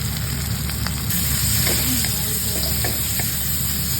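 Prawns fry in hot oil in a pan, producing a loud, continuous close-up sizzle with a spattering crackle that holds steady across the whole stretch.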